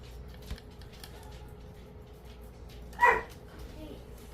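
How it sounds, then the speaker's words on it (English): A dog gives a short, moderately loud bark in the background of a quiet indoor room, with a fainter yip earlier and low room noise throughout. "And I do apologize for the dog in the background."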